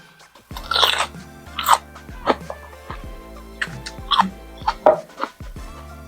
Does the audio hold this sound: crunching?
yes